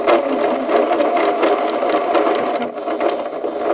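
Close, continuous whir and fast needle clatter of a sewing machine stitching a quilt seam over a glued stacked seam on a Twinkle Star quilt, running unbroken throughout.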